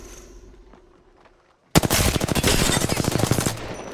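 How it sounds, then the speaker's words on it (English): Rapid automatic rifle fire in the Apex Legends video game, a loud, close sustained burst of evenly spaced shots that starts abruptly after near silence and runs for about two seconds. "I shot at an enemy shield"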